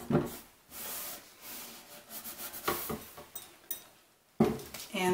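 Wax being rubbed by hand onto a chalk-painted wooden table, heard as soft, irregular scrubbing strokes at close range that are fairly quiet and vary in pressure, with no talking.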